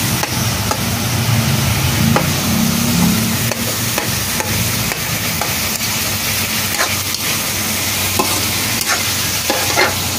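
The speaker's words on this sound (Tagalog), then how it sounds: "maraming sibuyas sa gigisa natin" Onions sautéing in a pan for a mung bean dish, a steady loud sizzle with stirring and scraping of the utensil throughout, no voices.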